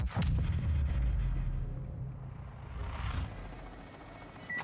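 A large explosion in the video game Modern Warfare II, a loud deep boom with rumbling low end that decays over a few seconds, followed by a rising whoosh of debris and a lingering rumble.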